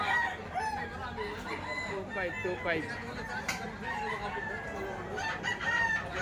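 Roosters crowing repeatedly at a busy chicken market, several birds calling over one another amid clucking and a steady crowd murmur, with someone talking nearby.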